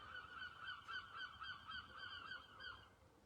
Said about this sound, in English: Thank you, the seagulls.